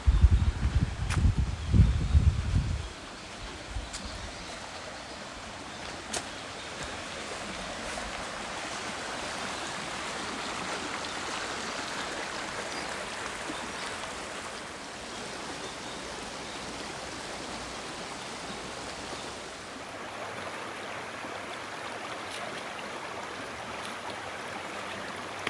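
A river in rural Japan flows with a steady, soft rushing hiss throughout. It is preceded by a few seconds of loud, low rumbling noise at the start.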